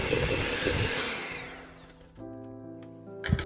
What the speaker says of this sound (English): Continue creaming the butter and sugar together.